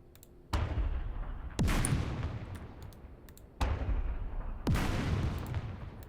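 Turret cannon fire in the wargame Second Front, Deir el Shein scenario: four heavy booming shots at fairly even intervals, each with a long rumbling decay, no talking.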